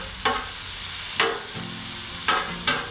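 Shredded venison frying in a pan while being stirred, a steady close sizzle broken by four scraping strokes of a utensil, with no voices.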